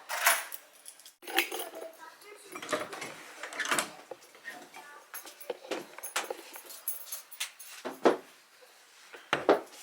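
Keys jangling in short metallic bursts while someone searches for them at home, bright clinks and rattles coming in irregular clusters with quiet gaps between, close and fairly soft.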